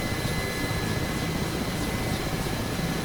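Mi-8 helicopter engine and rotor in the DCS flight simulator, a steady, continuous turbine roar with a broad rushing drone that holds level throughout with no talk.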